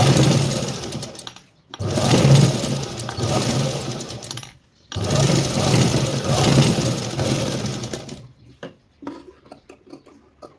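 A sewing machine runs in two long, steady bursts of whirring, rattling stitching through blouse fabric, each stopping abruptly, followed by scattered light clicks and handling noises near the end.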